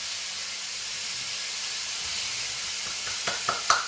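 Chopped onion hitting a hot pan for chilli con carne, a steady broadband hiss and sizzle throughout, close and fairly loud, with a few small sharp clicks and pops toward the end.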